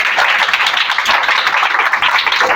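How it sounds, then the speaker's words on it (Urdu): A church congregation at an Urdu/Hindi sermon on the Holy Spirit claps loudly and rapidly, a close, energetic burst of hand claps filling the short moment. "پریز ہولی اسپرٹ، زوردار تالیاں"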